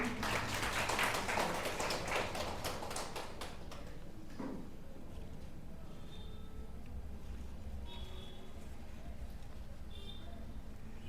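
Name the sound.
audience applauding guests on stage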